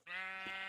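A sheep in the video game Minecraft gives one sustained, wavering bleat that starts abruptly and holds steady, close and clear with no other sound.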